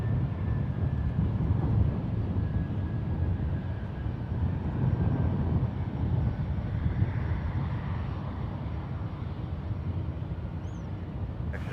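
A Delta Boeing 737-900 departing San Francisco International for Atlanta gives off a continuous low jet roar. The rumble stays fairly steady at moderate distance throughout, with no voices.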